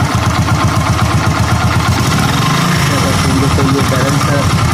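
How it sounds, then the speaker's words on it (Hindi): A motorcycle engine idles steadily right after being started on a new battery, a close, continuous low rumble with rhythmic pulsing and some clatter. "बाइक स्टार्ट हो गया।"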